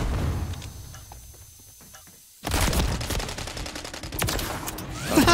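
Rapid gunfire from a JAK Beholder rifle kit in a Modern Warfare 3 Search and Destroy match, a quieter stretch giving way at mid-clip to a loud, dense burst of repeated shots continuing to the end.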